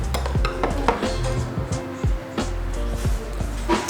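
Spoon clinking against a bowl while scooping a sauce made with special seawater to dress Korean raw-fish noodles, with several short metallic taps and scrapes over a busy restaurant background.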